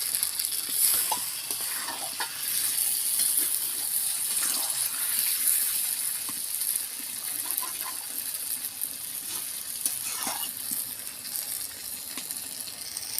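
Fried potatoes are tossed with chicken in a pan after the oil has separated from the meat, giving a continuous hissing fry with soft scrapes and occasional clicks from the spatula, steady and close.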